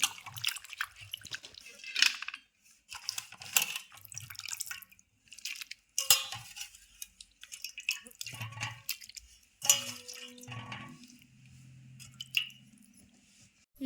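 Raw mutton is washed with water by hand, heard up close as intermittent wet squelches, splashes and drips in irregular bursts separated by brief quiet gaps.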